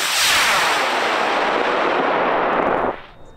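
A high power rocket on a CTI I-242 motor launches at a desert club launch event, its loud broadband roar starting at once and holding steady for about three seconds before cutting off into quiet wind.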